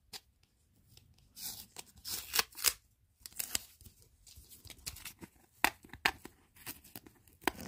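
A hockey card pack wrapper is torn open up close in irregular crinkling rips and rustles, with quiet gaps between the bursts.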